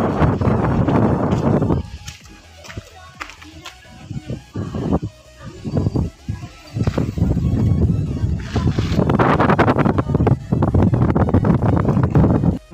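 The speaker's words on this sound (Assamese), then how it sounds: "বড়িয়া বতাহ লাগিছে" Steady wind gusts buffet the microphone at a hilltop viewpoint on the new road between Pandu and Kamakhya, roaring loudly through most of the stretch and easing briefly in the middle while a person talks over it.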